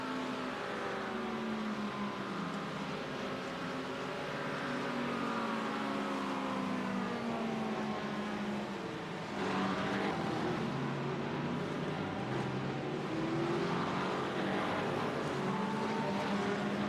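GT3 race cars roar around Virginia International Raceway (VIR), car number 67 among them, with engines droning continuously as their pitch rises and falls through gear changes and corners.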